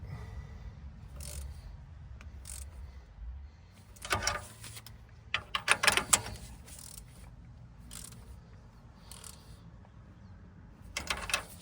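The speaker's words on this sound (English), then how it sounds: "And now I'm going to torque these." A torque wrench tightens spark plugs on a Polaris Xpedition, giving a few sharp ratcheting clicks and bursts of mechanical clatter over a low steady background hum.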